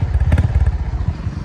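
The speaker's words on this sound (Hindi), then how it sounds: "एग्जॉस्ट नोट भी काफ़ी डिसेंट लगी मुझे," A Honda CB350 RS motorcycle idles close up, its exhaust thumping in a quick, even pulse that loosens slightly toward the end, loud and alone.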